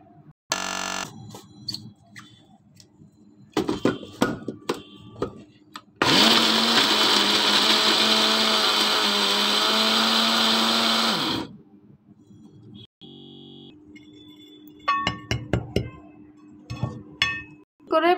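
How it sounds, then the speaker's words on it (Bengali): Electric blender grinding garam masala spices for biryani, a loud steady whirring burst of about five seconds in the middle, with shorter clinks and handling noises before and after and occasional speech. "আপনারাও চেষ্টা করবেন মশলাটা একদম মিহিভাবে ব্লেন্ড করে নিতে"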